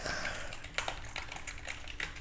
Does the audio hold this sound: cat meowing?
no